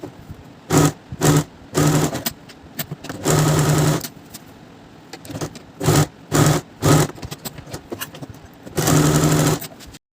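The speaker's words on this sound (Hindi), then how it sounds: "यहाँ पे सिलाई लगाएंगे, इधर भी डबल स्टिच लगाएंगे" A sewing machine runs in repeated short bursts and a few longer runs, double-stitching the seams of a semi-patiala salwar; the motor whirs loud and close with brief pauses between stitching passes.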